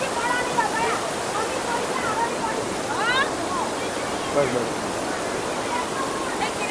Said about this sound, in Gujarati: પાછળનો નજારો જો કુદરતી ઝરણું